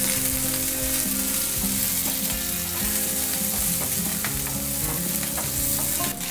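Thin onion slices sizzle steadily in hot oil in a pan for paneer butter masala, a close, continuous crackling fry with occasional stirring scrapes.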